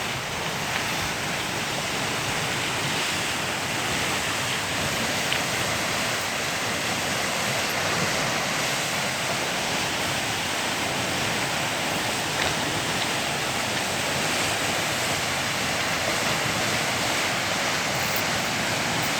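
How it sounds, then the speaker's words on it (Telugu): Powerful rushing water roars steadily and loudly without pause, a dense continuous torrent close by, gushing through a reservoir sluice gate at Kanigiri tank. "చాలా ఫోర్స్గా పోతున్నాయి నీళ్ళు చూడండి"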